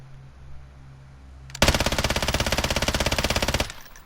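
An LMG loaded with stopping power rounds fires in Warzone: a quiet lull, then a loud rapid burst of evenly spaced shots lasting about two seconds before it cuts off sharply.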